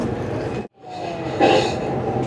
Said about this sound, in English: just to the train right next to us